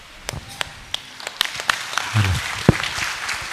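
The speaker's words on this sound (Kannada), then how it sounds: "ದಯವಿಟ್ಟು ಎಲ್ಲರೂ ಎದ್ದು ಚಪ್ಪಾಳೆ ಮೂಲಕ ಈ ಕಾರ್ಯಕ್ರಮಕ್ಕೆ ಶೋಭ" Audience at a community bride-and-groom meet inauguration in Karnataka claps in scattered, uneven bursts that swell midway, with a few louder sharp claps rising above a murmur of voices.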